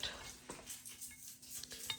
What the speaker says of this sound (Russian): Ну, вот одна тарелка, тут же будут салфеточки, ложка, вилка, нож.